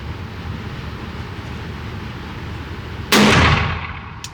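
A single loud gunshot from a Rossi Brawler single-shot in 45 Colt / 410 cracks sharply after a few seconds of quiet outdoor ambience, then rings off in a short decaying tail.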